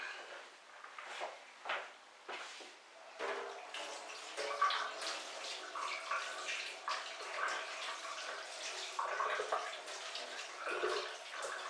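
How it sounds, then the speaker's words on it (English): Water runs from a tap while hands are washed, with splashing and sloshing that shifts as the hands move. It is preceded by a few clunks and handling sounds and goes on steadily for several seconds. "I need to wash my hands"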